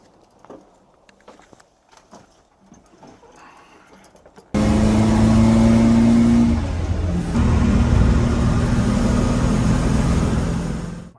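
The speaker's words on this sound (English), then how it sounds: "So Johnny and I are going to go for a drive real quick and just show you how it works" A 1956 Chrysler 300B Boano coupe starts driving after a few seconds of quiet, its engine note rising loud and steady with a brief dip before pulling on, close and alone without talk.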